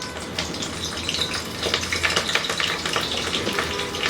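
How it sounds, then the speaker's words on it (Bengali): Cabbage leaves frying in hot oil in a wok give a steady crackling sizzle with scraping stirring sounds throughout, close and fairly loud, with no talk. "একটা কড়াইয়ে যথেষ্ট পরিমাণ তেল গরম করে এই পাতাকপিটা দিয়ে একটু ভেজে নিতে হবে আমার"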